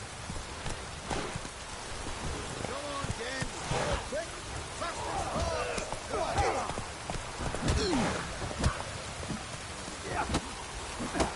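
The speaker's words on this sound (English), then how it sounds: "This downpour's a bastard, it is." Heavy rain downpour with thunder in the video game The Witcher 3, a steady hiss of rain with low rumbles, mixed with horse hoof clops and occasional talk.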